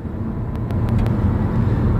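A Chrysler car with an Ultradrive automatic transmission, just given a transmission fluid change, drives on a test run, making a loud, steady low rumble of engine and road noise heard from inside the car.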